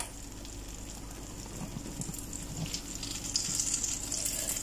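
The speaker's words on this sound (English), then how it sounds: "You notice I'm just moving the butter around and not really stirring the mixture." Butter sizzling in a hot pan while being pushed around, a continuous close hiss and crackle that swells slightly toward the end.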